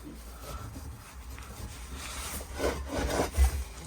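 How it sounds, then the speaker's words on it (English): A strap being pulled tight around a gas bottle on a Globecar Globestar 600 L camper van, a soft rubbing, rasping scrape that grows louder toward the end. "So strap the bottle in, which keeps it nice and safe and secure for when you're traveling."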